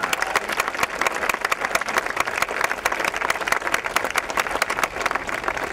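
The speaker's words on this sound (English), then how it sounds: "Please give a big round of applause for all the kids that performed in this year's production and the last few years' productions" Eighth-grade graduation audience applauding student performers from the school productions on the Baldwin stage: dense, steady clapping from a large crowd, loud and continuous throughout with no break.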